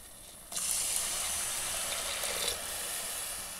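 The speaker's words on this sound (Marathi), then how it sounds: "आता आपण यामध्ये पाणी सोडणार आहोत." Water pours into a pan of hot fried masala for egg curry, bursting in abruptly as a loud, steady hiss and gush that eases slightly after a couple of seconds and keeps rushing to the end.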